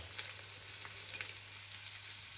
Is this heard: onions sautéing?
yes